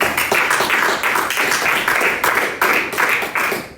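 A church congregation claps loudly and steadily together, a dense, sustained applause that swells and sways in rhythm, filling the room up close, with a few voices faintly mixed in.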